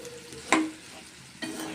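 An okra and prawn fry mixture with onion pieces stirred in a hot pan: a quick spatula scrape over a soft sizzle, then a second stir near the end, close and short.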